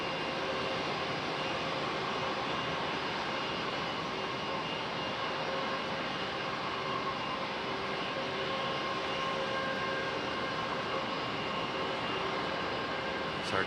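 A Delta airliner from Cincinnati takes off from runway 5 right at Raleigh-Durham International, a steady, fairly distant engine roar holding evenly throughout without any talk.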